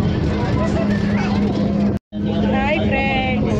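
Inside a moving bus during rain, the steady rumble of engine and road fills the cabin with a constant low hum, briefly cutting out midway, while people talk nearby.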